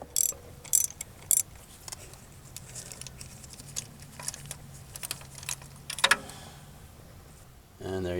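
A ratchet wrench works loose a spark plug on a 2010 Chrysler Town & Country, fitted with a small extension: scattered close, light clicks and metallic taps, quiet overall, ending in a louder burst of handling noise.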